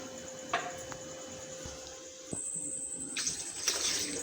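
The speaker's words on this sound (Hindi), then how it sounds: "पानी इसमें मैं ½ गिलास और डालूँगी।" Water poured into a cooking pot on the stove for peach juice, a steady splashing pour with a few louder bursts near the end, close up and without talk.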